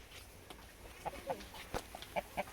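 A hen clucks several times in short, separate bursts, close by on a hillside walk toward a tea garden in South Sikkim, with quiet outdoor ambience between the calls.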